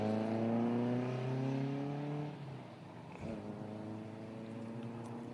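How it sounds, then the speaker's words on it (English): A Ford Escort Mark II sprint car at the Leyburn hillclimb sprint revs hard with a rising engine note, drops briefly at a gear change, then pulls away again, heard at moderate distance. "Another Mark II Escort."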